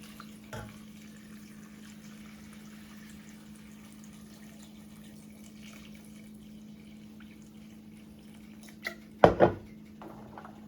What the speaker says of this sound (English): we're going to cover the bark with water.